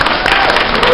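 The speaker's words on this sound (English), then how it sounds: "Give a round of applause." Audience applause at a Power Rangers fan convention panel, a dense, loud wash of clapping filling the whole moment.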